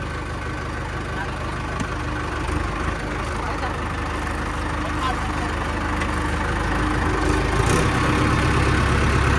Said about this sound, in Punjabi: ਲਗਾਤਾਰ ਟਰੈਕਟਰ ਚੱਲ ਰਿਹਾ ਤਿੰਨ ਟਰੈਕਟਰ ਚੱਲ ਰਹੇ ਨੇ